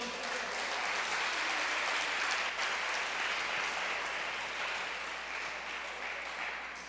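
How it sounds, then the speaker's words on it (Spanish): A church congregation applauds together in a dense, steady wash of clapping that holds for the whole stretch and eases off slightly at the end. "Dele ese aplauso al Señor."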